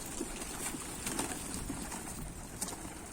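Karagalaca-breed pigeons give a few soft, low coos inside a loft, faint and intermittent over a quiet background rustle.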